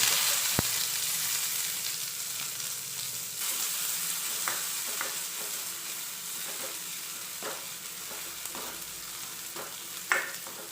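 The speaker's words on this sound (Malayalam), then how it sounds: "ലേശം വെളിച്ചെണ്ണ ഒഴിച്ചാൽ മതി ഉള്ളിയും കറിവേപ്പിലയും കൂടി ഇത് ഇട്ട്" Onions and curry leaves fry in a little coconut oil with a steady, bright sizzle, broken by occasional sharp ticks and pops and a spoon or utensil clinking now and then, with no talking.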